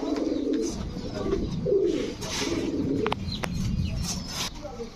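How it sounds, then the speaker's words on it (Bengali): A breeding pair of large Golla pigeons, male and female, coo repeatedly at close range in a pigeon farm, with soft throaty calls rising and falling over faint background noise. "দেখছেন কত বড় সাইজের কবুতর, একদম ফুল রানিং পেয়ার। এই হচ্ছে গোল্লা নর, এই হচ্ছে গোল্লা মাদি"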